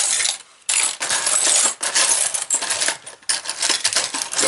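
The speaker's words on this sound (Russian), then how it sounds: "Царская монета, 2 копейки, развальцованная именно под обручальное кольцо." Metallic clinking and jingling as a tsarist two-kopeck coin, flared into a ring shape, is handled among other metal finds, close and busy with brief pauses between the clatters.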